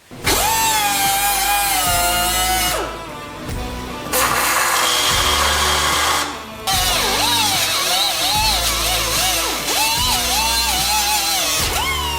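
A power drill whines loudly in long bursts, pitch rising and falling as it bites into a Honda S2000 car panel drilling mounting holes, with short pauses between runs.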